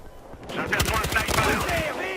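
Gunfire in the multiplayer shooter Battlefield Hardline: a loud, close burst of rapid shots with ringing, chaotic game effects layered over it.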